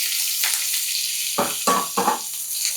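Ginger-chili paste with curry leaves, cumin and asafoetida frying in hot oil for a potato dish, a steady hiss with three or four louder spattering bursts near the end, close up and without talk.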